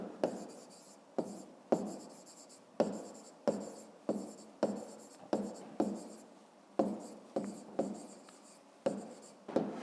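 A pen scratches out a 5th-grade math solution, a close, quiet run of about twenty short scribbling strokes in an uneven rhythm with brief pauses between words and no talk.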